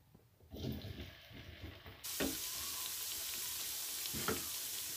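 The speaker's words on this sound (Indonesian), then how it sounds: "Goreng bakso untuk toppingnya." Meatballs (bakso) frying in hot oil, a low bubbling that turns into a loud, steady, broadband sizzle about two seconds in, continuing close up with no one talking.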